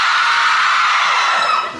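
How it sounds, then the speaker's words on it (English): A loud, sustained hair-raising scream played as a quiz show buzzer sound effect, filling the clip alone and cutting off near the end. "And a hair-raising scream for Alan Davis"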